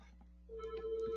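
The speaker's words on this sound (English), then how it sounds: "you can hear another phone ringing" An IP desk phone rings in an office after someone presses the call button on a school intercom door station, a faint steady electronic tone starting midway under a low background hum.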